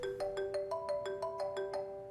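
A phone ringtone rings in the video game Unheard, a bright electronic melody of quick repeated tones in steady rhythm, clear and moderately loud.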